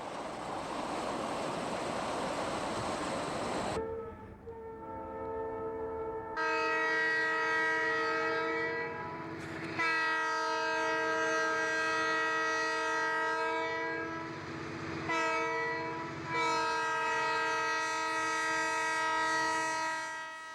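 A Missouri Pacific freight train rumbles past on the former Chicago and Eastern Illinois line at Pence Tower in Momence, Illinois, its multi-chime horn sounding several long blasts over the rolling roar of the cars.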